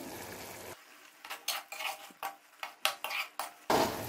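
A spoon stirs koftas frying in ghee-rich masala in a karahi, giving about eight faint, rhythmic metallic scrapes with a soft sizzle between them.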